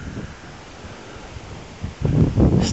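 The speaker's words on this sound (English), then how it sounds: "A little bit more powerful wind." Outdoor wind blowing steadily under an afternoon sky, a low broadband rush that swells into stronger, louder gusts near the end, with no voices present.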